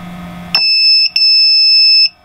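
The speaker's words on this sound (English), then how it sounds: "When you hear the beep, it will automatically reset." A chicken egg incubator gives a loud, shrill electronic beep on reset, a sustained tone broken by one brief gap, cutting in over a low background hum and then stopping abruptly.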